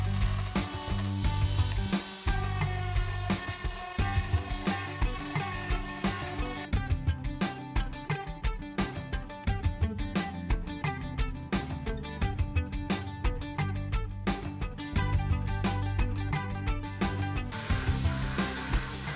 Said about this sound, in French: On insiste bien sur les arêtes des pieds pour pouvoir les arrondir.